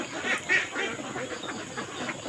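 Ducks quacking in a small flock as they are fed palay (unhusked rice), a run of faint, fairly distant nasal calls with no talk.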